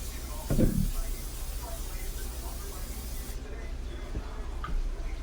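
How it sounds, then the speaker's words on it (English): A short burst of cooking spray hisses onto a skillet near the start, followed by quieter background noise and faint clatter. "you're gonna take cooking spray and you're gonna spray the skillet"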